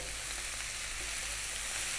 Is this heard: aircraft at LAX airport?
no